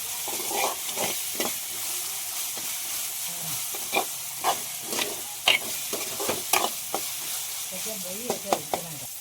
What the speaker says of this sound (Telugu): మంచిగా వేయాలి అల్లం ఇలా వేగితే బాగుంటుంది